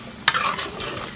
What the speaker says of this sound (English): So I'm going to add 5 cubes of my beef tallow or lard